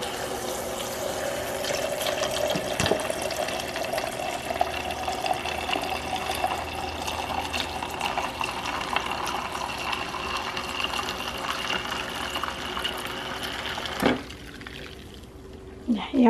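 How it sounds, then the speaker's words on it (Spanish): Water pours from a tap into a glass of sweet drink with ice, a steady splashing stream lasting about fourteen seconds before cutting off, with a brief voice near the end. "Y ahora sí, agua."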